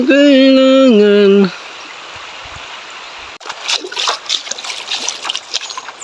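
River water splashes and sloshes in irregular bursts close to the microphone, after a loud sustained tone at the start and a stretch of quieter flowing water.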